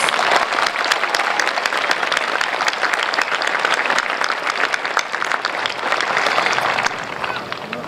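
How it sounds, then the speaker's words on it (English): A large crowd at a Dalton High School 2025 graduation ceremony applauds first-generation graduates, with dense, steady clapping that stays loud and sustained for about eight seconds before easing slightly near the end. "can we please give a big round of applause to the first-generation graduates?"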